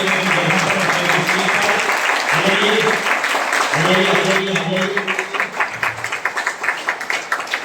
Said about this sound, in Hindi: इन सभी के लिए जोरदार ताली प्लीज